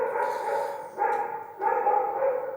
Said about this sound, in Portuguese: Tem um cachorro latindo aqui na rua.